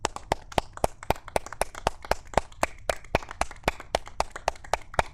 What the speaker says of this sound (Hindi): जितना देर तक ताली बजाना है बजाइए